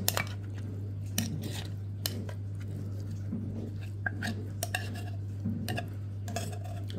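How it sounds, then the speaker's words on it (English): Cutlery scrapes and clinks against a bowl while tuna salad is mixed, with irregular sharp scratches and taps standing out over a steady low hum, close and moderately loud. "I do apologise about the scraping there, folks"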